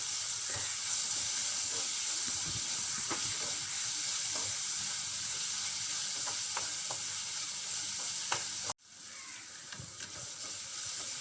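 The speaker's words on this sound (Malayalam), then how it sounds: "ഒരു ചെറിയൊരു തക്കാളി ചെറുതായിട്ട് അരിഞ്ഞെടുത്താണ് ഇതും കൂടി ഇട്ട് കൊടുത്തേച്ച് ഇതും കൂടി നല്ലത് വേണമെന്ന് വഴന്ന് വരണം നല്ലതൊന്ന് വഴറ്റിയെടുക്കാം" Finely chopped tomato sautéing in a pan, with a steady loud sizzle and hiss and scattered stirring clicks, then an abrupt drop before the sizzle resumes more quietly; no talking.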